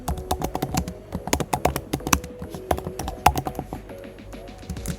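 Python code is typed on a computer keyboard in quick, uneven bursts of crisp, close key clicks with short pauses between runs, and no talk.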